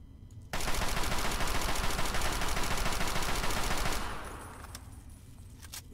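Sustained automatic gunfire in the video game Fallout 3, a dense rapid burst of shots lasting several seconds, loud and close, then cutting off into fading echo.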